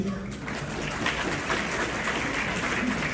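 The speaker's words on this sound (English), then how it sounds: "Can we begin with a round of applause for our awesome MC tonight?" A gala dinner crowd gives the MC a round of applause, a dense, steady wash of clapping filling the room throughout.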